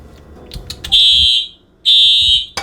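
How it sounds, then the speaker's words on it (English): Electronic kitchen fire alarm in a cooking video game, two loud sustained high-pitched beeps with a short gap between them, preceded by faint clatter and alone without talk. "all good chefs set up the fire alarm"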